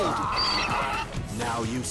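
A cartoonish donkey bray with whinny-like tones in the Swords and Soldiers 2 video game, loud and continuous over game sound effects and battle noise.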